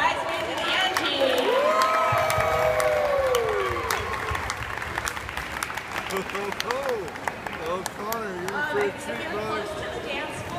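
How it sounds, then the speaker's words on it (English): Wedding guests clap and cheer for a bridesmaids' surprise ribbon dance, a sustained crowd applause with whoops and shouted voices riding over it, continuing loudly throughout. "So let's have a round of applause for the Bridesmaids and Angie."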